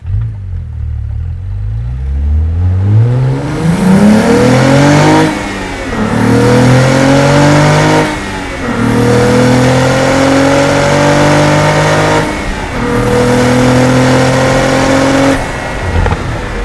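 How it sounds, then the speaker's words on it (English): A Cadillac CT4-V Blackwing engine and exhaust pull hard through the gears, climbing loudly toward redline in repeated rising sweeps. Brief dips mark the upshifts. The car is heard close up and alone. "In that pull there, I kind of felt in your third gear towards red line."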